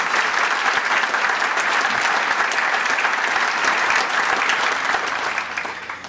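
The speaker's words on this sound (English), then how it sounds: "Please, a round of applause for all of them." Sustained, dense applause from a luncheon audience honoring board members at a Burbank police awards event, steady and loud throughout before easing slightly at the end.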